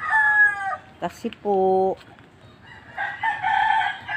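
Nearby chickens crow and cluck in a backyard, with a rooster's call at the start, brief clucks in the middle and more crowing toward the end, alongside a short spoken word.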